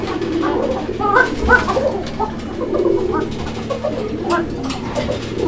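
Several fancy pigeons coo in soft, repeated rolling calls nearby, overlapping one another with some background noise and voices.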